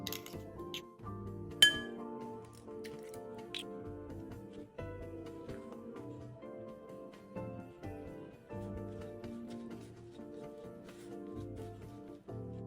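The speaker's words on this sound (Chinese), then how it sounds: "将所有粉料拌一拌，接着再敲入2个鸡蛋" Flour mixture seasoned with five-spice powder, pepper and salt being stirred in a bowl, then two eggs cracked in for taro and shrimp fritter batter; repeated clinks and taps of utensil against bowl, close and steady, with no talking.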